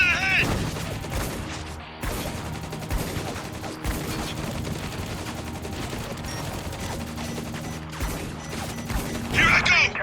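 Heavy sustained gunfire in the Spec Ops: The Line video game, dense volleys and crashing impacts during a firefight with a heavily armoured enemy, continuous and loud with voices shouting over it.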